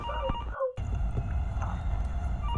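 A telephone rings on in the horror game Infliction, its tonal ringing held steady over a deep, droning rumble, cut by a brief drop to near silence early on.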